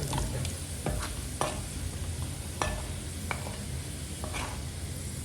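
Onions fry in a pan for a village-style prawn dum biryani, with a steady background sizzle and several sharp scraping knocks as a spatula stirs them. No one speaks.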